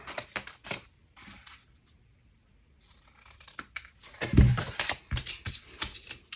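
Scissors trimming the corner of a paper card make a quick series of crisp snips and rustles, close and fairly quiet, with a short pause before a louder cluster of cuts.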